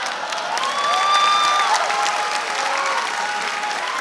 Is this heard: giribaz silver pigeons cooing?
no